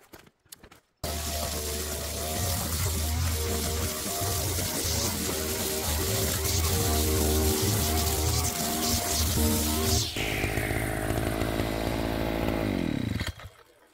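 A petrol brush cutter with a string line runs loud and steady as it slashes through dense, tall weeds and grass on farmland, the engine whine holding before it drops off and winds down near the end.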